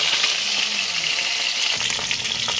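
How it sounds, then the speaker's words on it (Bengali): Pieces of fish frying in hot oil in a well-heated wok for a fish and taro curry, giving a dense, steady close-up sizzle with crackling spatters and no voices. "মোটামুটি মাছটা ভাজা হয়ে গেছে, এবার আমি তুলে নেব একটা একটা করে।"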